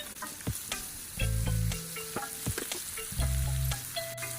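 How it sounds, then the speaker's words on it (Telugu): Capsicum pieces with turmeric, chilli and salt sizzling in a pan, a soft steady fry broken by clanking spoon strokes and scraping as they are stirred, with no talk. "ఇలా కలుపుతా వేపుకుందాము"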